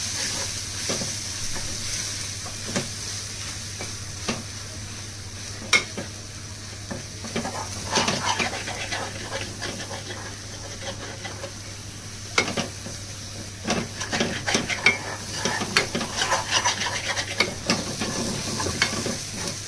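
A masala mix of coriander-cumin powder and fresh coriander being stirred and roasted in a pan for a tender cashew curry: soft continuous sizzle with repeated scraping spoon strokes, close by, no talking.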